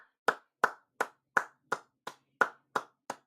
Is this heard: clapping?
yes